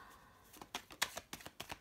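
Tarot cards are shuffled by hand in a quick series of soft, riffling flicks and taps, close and quiet with no talking.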